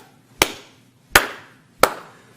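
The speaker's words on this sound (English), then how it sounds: "Slow clap." A slow clap from prisoners as a man walks through a prison in a film: three loud, sharp claps spaced evenly apart, each ringing out briefly into a quiet room.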